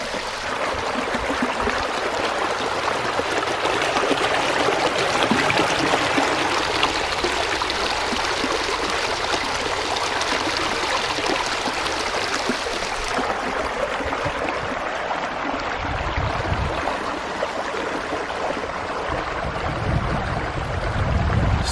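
Rushing stream water pours in a loud, continuous, broadband wash that stays steady throughout with no voices, heard up close from the bank outdoors.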